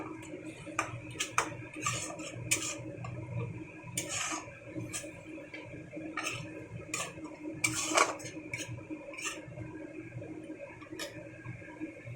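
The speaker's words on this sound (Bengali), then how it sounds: "একটু জল দিয়ে মশলাটাকে কষিয়ে নিলাম।" Spice paste cooked down with a splash of water in a pan, ready for lote (Bombay duck) fish, with a spatula scraping and clinking against the metal in a steady run of taps alone.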